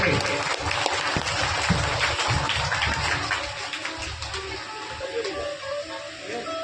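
Applause from devotees at a Shrimad Bhagavat Katha religious gathering at Baba Baidyanath Dham, Jharkhand, steady clapping under a voice speaking over a sound system.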